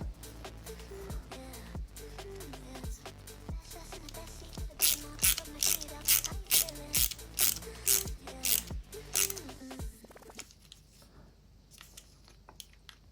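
A screwdriver driving small AP screws into a Fanhome Fast and Furious Toyota Supra MK4 model car kit, with close, sharp ratcheting clicks in a steady series that stop near the end.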